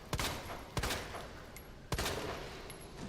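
Three sharp gunshots ring out at uneven intervals in Resident Evil 2 (2019), each with a short reverberant tail, the last one landing a critical headshot.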